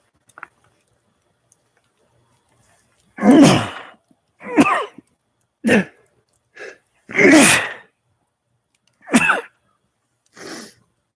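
Several sharp sneezes burst out one after another with pauses between, close and loud, against an otherwise quiet background.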